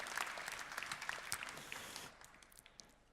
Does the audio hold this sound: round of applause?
yes